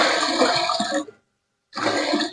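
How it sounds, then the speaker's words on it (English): Water pours in a steady broadband rush into a cooking pot at a dog-food cookout, stopping for about half a second before resuming just as strongly; close and loud, with no talking. "So now that I have the quantity of water I want in the pot"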